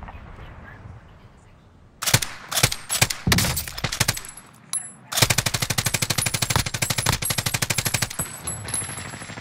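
Video game gunfire in an online shooter: a few scattered single shots at first, then a long rapid automatic burst of evenly spaced loud reports, with quieter background noise before the shooting starts.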